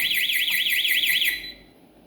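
A security alarm sounds after its entry delay runs out with no disarm code; a loud, rapidly warbling siren wails alone for just over a second, then cuts off into quiet background.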